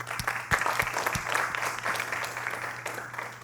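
A conference audience at JuliaCon 2023 applauds a speaker coming to the stage, with steady clapping from a modest crowd that holds for several seconds and then slowly thins out.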